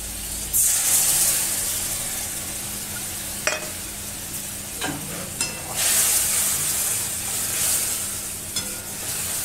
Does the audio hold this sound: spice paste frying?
yes